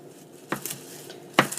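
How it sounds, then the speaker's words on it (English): A knife taps a cutting board a few scattered times while chopping parsley and frozen peppers in a home kitchen for a blueberry corn salad, faint and sparse, with a sharper knock near the end. "Chop, chop, chopping away."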